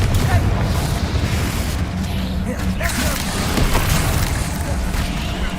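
A Confringo blasting spell detonates in the Hogwarts Legacy video game, a steady rumbling boom mixed into dense, continuous game action noise for the whole stretch.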